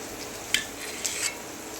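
A knife cuts through boiled eggs for egg bhurji in a home kitchen, giving two light clicks against the cutting surface, the first sharp and the second softer, with quiet room noise around them.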